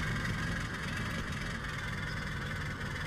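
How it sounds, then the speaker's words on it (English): Steady low rumble of a tractor engine straining on a steep slope in Stubbs the Zombie, droning evenly and continuously at moderate volume with no pauses. "Tractor won't make it up the hills."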